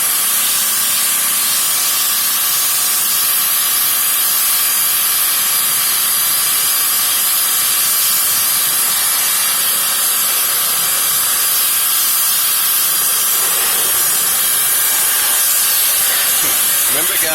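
A pressure washer sprays water inside a car's wheel well during a wheel-cleaning detail: a loud, continuous hiss and roar that stays steady and close the whole time, with no talking.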